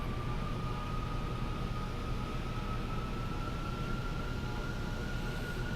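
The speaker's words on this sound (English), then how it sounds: "you can hear the engines kicking up here as I get us set" F-35 jet engines in the X-Plane flight simulator, a steady whooshing roar with a thin whine that rises slowly in pitch as the engines spool up, continuous and even with no talk.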